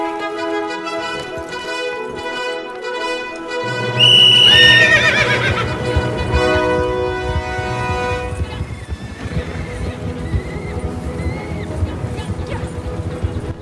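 Horses run through snow in a horse race game, with loud, close whinnies and neighs breaking out over a rumbling run of hooves, then trailing into fainter calls.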